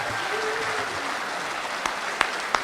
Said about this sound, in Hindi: पूरा सदन हाथ उठाकर जोरदार तालियों के साथ